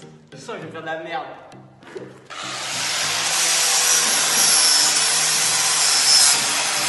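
A flap disc sanding a Véloto, starting as a loud, steady abrasive grinding roar that runs on continuously after a couple of seconds of nearby voices talking.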